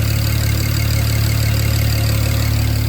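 A car engine idles steadily after a single turbo install, old oil burning off the manifold, giving a loud continuous low hum with a faint rhythmic knock and no voices.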